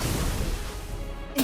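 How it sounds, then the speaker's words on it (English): A Bombastic bomb spell goes off in the Harry Potter Magic Awakened game, a sustained loud roaring blast that fades before a second sharp burst at the end. "Bombastic bomb."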